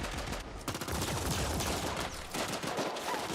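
Energy pistol fire from the EP4 in the video game The Ascent crackles in a dense, continuous volley of rapid shots that stays loud for the whole stretch.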